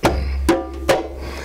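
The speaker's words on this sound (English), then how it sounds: "And then we played the djembe drum" Djembe drum with a goatskin head tightened by tied string, struck three times in a loose rhythm, each hit a sharp slap with a short ringing tone, close and clear with no talking.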